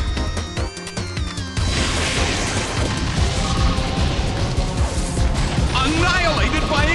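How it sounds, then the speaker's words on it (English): Explosion move landing in a Pokemon Battle Revolution battle: a sudden loud crash and burst around 1.5 seconds that rolls into a dense, sustained blast of noise with game effects and music continuing for several seconds. "Annihilated by explosion!"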